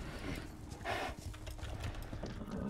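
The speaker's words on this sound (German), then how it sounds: "mein Pferd wird ein bisschen schneller." A horse in the video game Star Stable Online gallops with hooves drumming steadily and quickening, a close, continuous rhythmic clatter with no voices.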